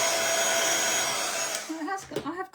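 A heat tool whirs steadily while drying ink on a stamped card, a loud continuous airflow roar that cuts off about two thirds through, after which a voice briefly speaks.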